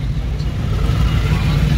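A car engine pulling uphill on half clutch with light throttle, a low steady hum that swells slightly, heard from inside the car under an instructor's voice.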